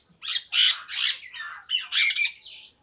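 Conure parrots, brightly colored red, yellow and green, squawking in a series of about six loud, harsh, close calls over roughly two seconds, with no talk.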